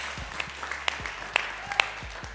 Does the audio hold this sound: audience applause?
yes